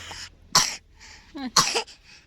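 Two sharp coughs from a person with a cold, close and loud, separated by a short pause with a faint sniffle-like breath between them; no talking.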